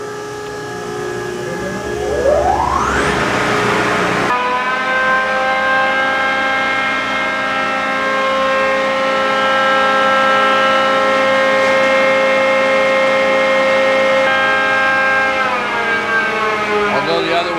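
A hydraulic motor runs under load, its whine climbing steeply in pitch over the first few seconds, then holding as a loud, steady, multi-toned drone that shifts slightly near the end.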